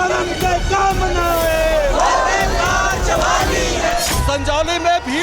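An agitated protest crowd in Sanjauli, Shimla, shouts and chants loudly and continuously, many raised voices blending into a dense roar close by.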